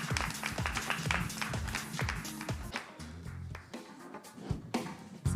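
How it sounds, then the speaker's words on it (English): Audience at a CES startup pitch day applauds an award winner, a steady patter of many hands clapping that fills the room, then thins and turns more scattered toward the end. "Applause, please, and welcome to the stage"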